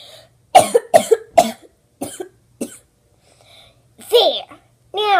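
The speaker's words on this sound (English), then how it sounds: "First, my morning cough." A child's short morning cough, a quick burst of several sharp hacks close to the ear, followed by throat clearing and a few small vocal sounds.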